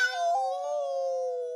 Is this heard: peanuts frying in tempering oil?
no